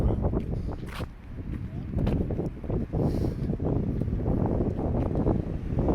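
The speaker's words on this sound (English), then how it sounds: "It's hard sometimes to know where the wind's coming from." Wind blows along a city street in Boston's North End, a steady rough rumble and gusty buffeting against the microphone that persists throughout with a few faint footsteps and street noises.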